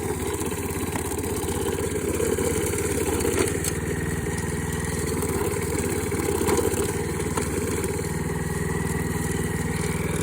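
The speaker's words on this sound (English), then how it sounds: "it's just a lawnmower" A lawnmower fitted with a steel cable in place of its blade runs steadily through unfamiliar overgrowth, its engine droning loud and close with a constant buzzing rumble and no pauses.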